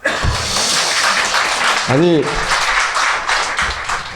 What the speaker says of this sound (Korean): 판단에 박수를 칠 필요는 없어요.